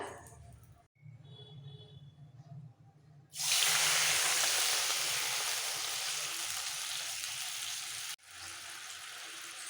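Kalo jeera (nigella seeds) sizzling in hot oil for a mustard-paste potol jhal, a loud steady hiss that erupts partway through and holds, briefly dipping near the end, after a quieter low rumble.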